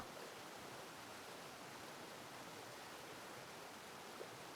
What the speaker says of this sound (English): You can hear the amazing sounds of the water rushing past you.